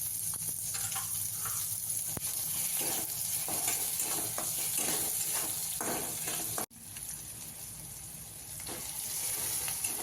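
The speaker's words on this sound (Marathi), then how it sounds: "कापून घेतलेला कांदा छान गुलाबी रंग येईपर्यंत परतून घेऊया" Chopped onion and tomato are sautéed in a pan, a continuous sizzle with scraping stir strokes at a steady pace, briefly cut off by an abrupt drop in sound, then resuming; no voices.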